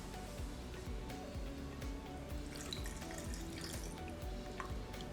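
Water runs steadily from a jug through a funnel into jars of raw meat for home canning, a continuous pouring and splashing that stays close and unbroken throughout.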